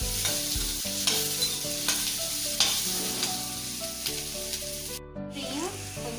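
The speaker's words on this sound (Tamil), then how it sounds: "அது ரஃப்பாக கட் பண்ணி வச்சிருந்த வெங்காயம் இதுவும் வதங்கட்டும்." Roughly cut onions sautéing in a pan for palak paneer, a close, steady sizzle with rhythmic scraping stirs and occasional metallic clinks, a brief dropout near the end, no talking.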